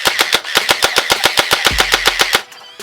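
A Faction Sentinel toy blaster turret fires outdoors in a fast, even string of about twenty motorized shots, each a sharp close snap, with a brief whirring hum partway through before the burst stops.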